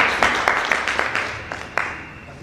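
An audience claps at a stage comedy show, a brief burst of applause with distinct individual claps standing out in an uneven rhythm, fairly close and moderately loud.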